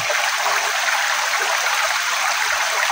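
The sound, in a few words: stream flowing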